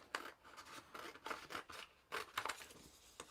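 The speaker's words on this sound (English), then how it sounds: "I'm just going to trim this" Scissors snip through paper while trimming a card-making sheet down to size, several quick cuts in uneven bursts, close and fairly quiet with no talking.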